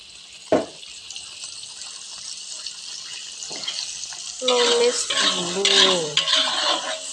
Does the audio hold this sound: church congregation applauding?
no